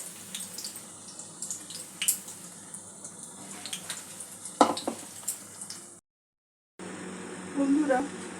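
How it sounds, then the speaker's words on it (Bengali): Lentil-paste coated pointed gourd fritters fry in hot oil, a soft steady sizzle with light clinks and scraping, a brief pause, then a louder sizzling stretch. "এইভাবে ডাল বাটা দিয়ে কোটিং করে ভালো করে ভেজে নিতে হবে"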